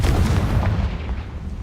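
A game-style Confringo blasting spell goes off as a loud, close, deep explosive boom with a rumbling tail that fades over a second or so.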